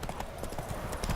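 A horse gallops in the video game The Witcher 3, a rapid, steady clip-clop of hooves heard up close for a brief moment, with nothing else over it.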